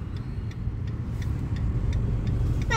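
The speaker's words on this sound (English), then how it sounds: "Now we are going to park the car." A car rolling into a school parking area in Noida, with a steady low engine rumble and road noise at close range and faint ticking above.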